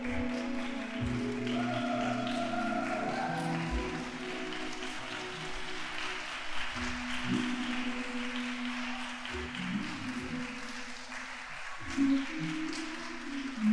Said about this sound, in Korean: 뜨거운 박수로 신부와 아버님을 축복해 주시면 감사하겠습니다